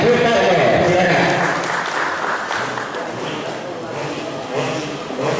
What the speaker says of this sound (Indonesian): Berikan tepuk tangan yang meriah untuk adik Yosefa Gabriela Sutarto